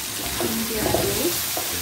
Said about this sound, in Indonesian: Ini diaduk.